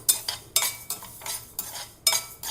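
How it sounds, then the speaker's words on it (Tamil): Rhythmic scraping and rattling of dry urad dal lentils being roasted in a plain pan with no oil, stirred about two strokes per second, close and fairly loud. "நம்ம உளுந்த பருப்பை அதை நம்ம கொஞ்சம் லேசாக வறுக்கணும்"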